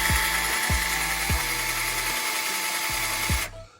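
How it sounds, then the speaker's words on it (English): A power drill whines steadily at high speed as a fresh bit bores into a Corvette C3 radiator fan shroud, with short thumps at each restart, running close and loud before cutting off abruptly near the end. "you're gonna take a brand spanking new drill bit and a drill, and you're gonna drill a hole"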